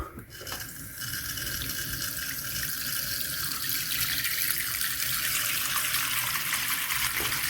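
Tap water runs steadily into a kitchen sink ahead of testing a newly installed Badger 5 garbage disposal, a continuous close splashing hiss that holds level throughout with no talking.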